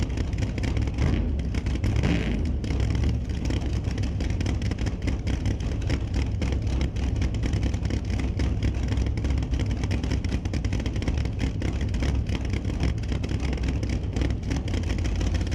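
Drag race cars at launch, a nitrous-fed machine against a turbocharged one, one running a 959 cubic inch engine; a dense, continuous roar of engines fills the whole stretch at steady loudness, with no talk.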